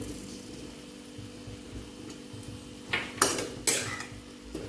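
Onion slices and turmeric are stirred in a cooking pan, a quiet background hum followed by three sharp metallic spoon scrapes and clanks against the pan near the end, no talking.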